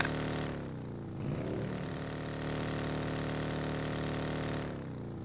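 Vehicle engine in PUBG Mobile while riding around, a steady mid-pitched drone that holds loud throughout with a slight shift in tone partway, no talk over it.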